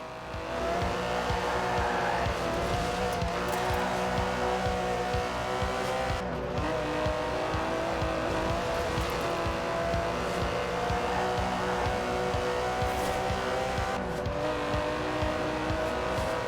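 Aston Martin DB11 with a 5.2-litre twin-turbo V12, driven in the video game Forza Horizon 4, holds a loud sustained engine drone with rising and falling revs and brief shifts, with no talking.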